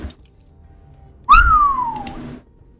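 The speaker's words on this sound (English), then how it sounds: "Oh yeah, whistle indeed." A lone whistled note rises briefly, then slides gradually downward for about a second before stopping, loud and close with no other sounds around it.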